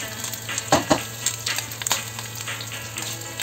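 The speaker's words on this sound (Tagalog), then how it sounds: "Abango-bangohin natin yung ating garlic." Garlic sautéing in a hot pan for pinakbet, a steady close sizzle with a couple of sharper stirring scrapes and clatters near the start, no voices.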